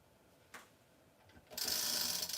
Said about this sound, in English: I'm going to put my tape right across